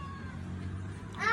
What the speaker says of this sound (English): So, it's just a missing cat.